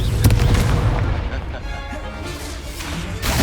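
A Confringo fire spell bursts in Hogwarts Legacy, a loud booming blast with crackling debris in the opening second, then a rumbling tail fading under game ambience before another hit at the end.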